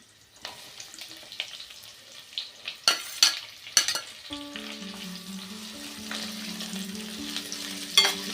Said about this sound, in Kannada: ಇದು ಸ್ವಲ್ಪ ಫ್ರೈ ಮಾಡ್ಕೊಳ್ಳೋಣ. ಈಗ ಈರುಳ್ಳಿ, ಹಸಿಮೆಣ್ಸಿನ್ಕಾಯಿ ಹಾಕ್ಕೊಳ್ಳೋಣ